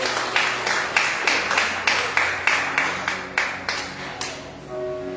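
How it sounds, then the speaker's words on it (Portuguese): A church congregation claps in steady unison during an evangelical service, a dozen or so even, rhythmic beats that fade at the end, with no talking over them. "As palmas ao Senhor"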